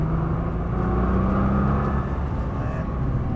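Nissan GT-R with 550 hp accelerating hard in a straight line, its engine a dense, loud, steady roar heard from inside the car, with a faint voice underneath.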